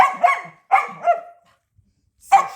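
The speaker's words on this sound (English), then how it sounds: "So she don't get along with this female dog out here." A dog barks at a female dog outdoors on a morning walk: three sharp, loud barks in quick succession, a short pause, then a fourth bark, with no talking.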